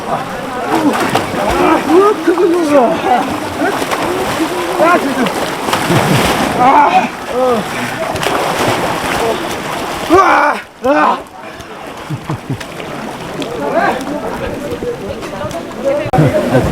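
People splashing through near-freezing pools and water taps on a cold evening at Muktinath, a continuous heavy sloshing and spattering close by, with voices talking over it throughout.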